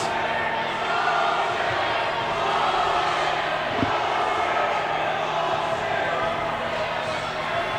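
Irate arena crowd at a men's ice hockey semi-final between Fitchburg State and UMass Dartmouth, booing the referees in a continuous loud, echoing rumble of voices with one sharp thump near the middle.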